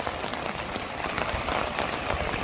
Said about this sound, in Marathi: मुसळधार पाऊस कोसळत आहे